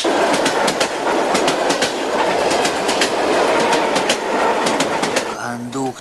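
A train carriage rolls along the rails with a steady rumble and repeated clickety-clack beats throughout. Birds chirp faintly in the background, and the sound is heard alone.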